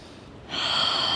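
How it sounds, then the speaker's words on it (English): A single deep breath during a Pilates stretch, a quiet intake that turns into a sharper, airy exhale in the second half, heard close and alone. "Deep inhales, deep exhales here."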